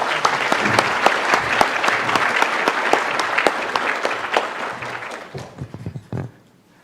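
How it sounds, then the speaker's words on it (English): Audience applause at a formal talk, many hands clapping in a dense, steady burst close by that thins out and fades near the end. "would you all, with your applause, please thank Ambassador Cui for coming and joining us today"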